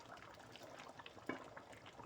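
Cooking oil pours into a pot while mutton korma is being made for a party, producing a brief liquid splash and gurgle with faint background kitchen noise.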